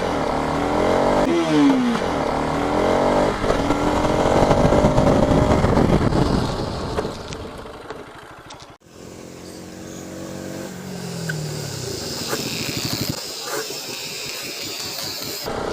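A motorcycle with ABS passes close by on a road and brakes hard, engine noise rising loud then dropping away into a quieter rumble and tyre hiss.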